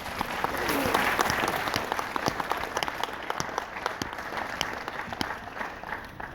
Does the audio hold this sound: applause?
yes